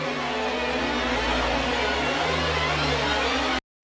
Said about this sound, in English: And then I have this giant riser.